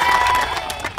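An audience at an event applauding, with a brief burst of loud, dense clapping and crowd noise that tapers slightly.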